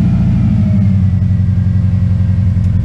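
A Subaru WRX engine idles steadily, with a low, even rumble that stays close and constant throughout after a boost gauge install, and no one speaks.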